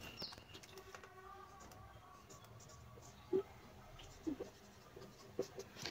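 A pen scratches across paper while someone works out concrete quantities for a column by hand, faint intermittent strokes with a few sharper taps in a quiet room.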